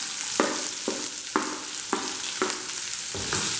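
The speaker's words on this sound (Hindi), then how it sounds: "और इनको हम 2 से 3 मिनट तक फ्राई कर लेंगे, जब तक कि प्याज का कलर चेंज ना हो जाए।" Grated ginger, chopped green chili and onion fry in a pan for a pumpkin sabzi, with a soft continuous sizzle broken by about six regular stirring scrapes, close and alone.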